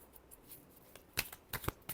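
Tarot cards being shuffled by hand, giving a few quick, soft riffling flutters close by and fairly quiet over a faint background.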